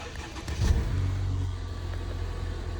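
A Mercedes-Benz 253-series car engine catches and starts after a key-detection fault, a short cranking burst followed by a brief rev and then a steady, low idle nearby.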